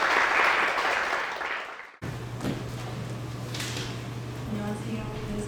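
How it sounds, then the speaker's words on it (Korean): An audience at a church youth joint worship service claps loudly and densely for about two seconds before the applause cuts off abruptly. Quieter room noise with a low hum follows, and a voice can be heard faintly. "다 같이 박수로 맞아주세요"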